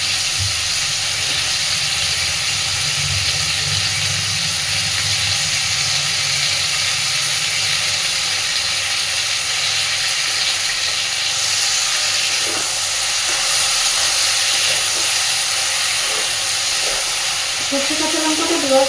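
Ground mustard and green chilli paste sizzles in hot oil with frying cauliflower, a loud, steady, close hiss that carries on unbroken, with faint stirring scrapes near the end.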